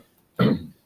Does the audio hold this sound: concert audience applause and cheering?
no